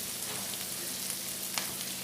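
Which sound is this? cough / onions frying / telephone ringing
onions frying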